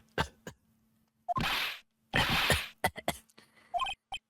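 Gumshoe coughs in Phoenix Wright: Ace Attorney, several short, harsh, close coughing bursts in an uneven sequence, two of them long and raspy, with quick clicks and game blips between them.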